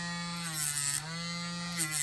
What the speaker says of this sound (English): Now I'm just going to take my flapper wheel on my Dremel, and I'm just going to go around the top at a little bit of an angle.